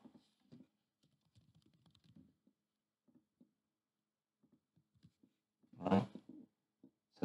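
A file path typed on a computer keyboard, soft scattered keystrokes in short bursts with pauses, then a louder cluster of taps near the end, all faint in a quiet room.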